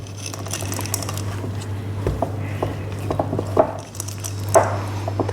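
Cookie dough being stirred in a bowl, with scattered soft scraping and clinking taps over a steady background hum, moderately close, no talking.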